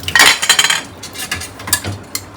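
Metal utensils and dishes clink and clatter during dishwashing, a quick flurry of sharp knocks followed by scattered lighter clinks, close and fairly loud with no voices.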